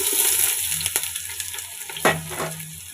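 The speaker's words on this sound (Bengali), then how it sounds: "তেলও গরম হয়ে গেছে এখন দিয়ে দেবো পেঁয়াজ" Onions drop into hot oil in a pot for biryani, a steady close sizzle with a sharp burst of frying near the middle and faint stirring clinks; no talking.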